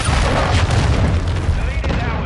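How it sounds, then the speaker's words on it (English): A heavy, rumbling cruise missile blast in Modern Warfare 2 multiplayer, a loud sustained boom with deep low rumble filling the whole moment, other game noise mixed in. "Hostiles launched a cruise missile."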